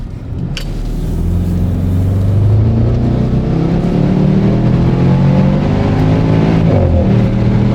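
A Porsche 958 Cayenne Turbo with secondary cats deleted accelerates hard, its loud exhaust rising in pitch before a DSG upshift brings a sharp pop and the drone drops and climbs again.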